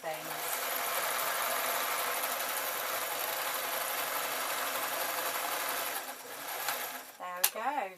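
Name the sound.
sewing machine sewing a scarf from leftovers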